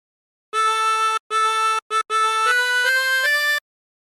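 A chromatic harmonica plays a phrase of the sea shanty Drunken Sailor: clear sustained reedy notes in four breaths, short gaps between them, the last notes stepping upward, close and alone with no talk.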